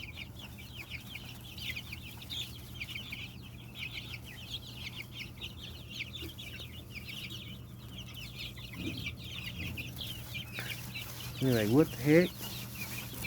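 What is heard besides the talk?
chickens clucking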